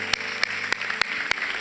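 A church congregation at a young adults' Sunday worship service claps in thanks: a steady rhythm of sharp, evenly spaced claps, like a few hands beating in time, close and clear.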